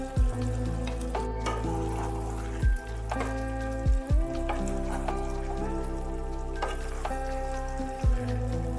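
Fried shrimp being added to a spring onion vegetable curry in a pan, giving a soft continuous sizzle with several sharp clinks and knocks of utensils against the pan at irregular moments.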